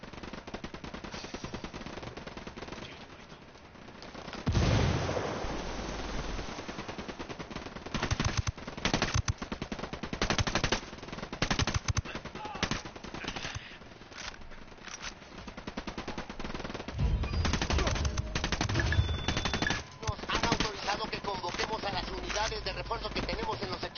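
Rapid bursts of automatic gunfire from a PS4 shooter game, loud and repeated in long volleys with brief pauses between them, a player's voice coming through at times.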